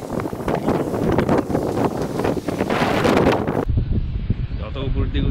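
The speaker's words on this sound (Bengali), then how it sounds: "যত উপর দিকে উঠছি বাতাসও বাড়ছে" Strong gusts of wind buffet the microphone while climbing up a hill in a park in Bendigo, Australia, a loud rumbling roar that cuts off abruptly near the end, with a voice audible over it.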